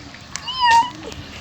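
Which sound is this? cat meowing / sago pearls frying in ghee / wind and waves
cat meowing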